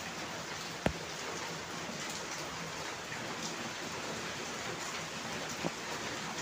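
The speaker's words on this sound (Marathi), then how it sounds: "हे बघा, पाऊस चालू झाला" Monsoon rain falls steadily in the Matheran hills, a constant close hiss of drops spread evenly across the whole stretch, with a couple of sharp isolated ticks from drops striking a surface.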